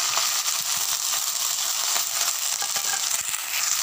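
Potatoes and onion leaves frying in a pan for a Bihari-style bhujiya, giving a steady, close, continuous sizzle with faint crackles throughout, no talking.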